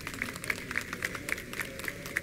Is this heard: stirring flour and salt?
no